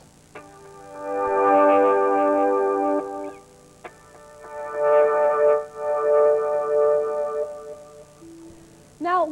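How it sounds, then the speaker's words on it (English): Electric guitar swelled through a volume pedal so the picked attack vanishes and chords fade in softly like a keyboard, two separate swells rising and falling, played alone without talk. "if you use a volume pedal, you can always make the guitar sound a bit like a keyboard"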